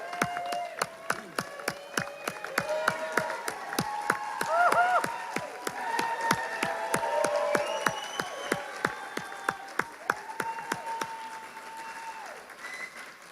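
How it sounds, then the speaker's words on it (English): A graduation ceremony crowd applauds the Tacoma Public Schools Indian Education Program Class of 2018, with dense, steady clapping throughout and a few high cheers and whistles rising above it. "give them a round of applause."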